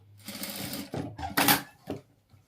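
A sewing machine runs in short bursts of single-needle stitching beside embroidery on a blouse, close and fairly quiet, with a couple of brief pauses between runs.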